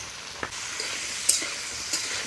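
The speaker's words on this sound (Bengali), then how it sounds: "তেলটা ভালো মতোই গরম হয়ে গেছে এবারে সমস্ত সবজিগুলোকে ভেজে নেব" Vegetables hiss in hot oil seasoned with salt and turmeric, a steady close sizzle punctuated by a few sharp crackles and pops.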